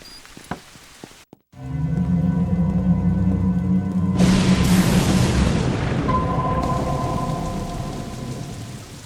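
Steady heavy rain pours down close by, with a deep rumble of thunder building partway through and continuing beneath the downpour.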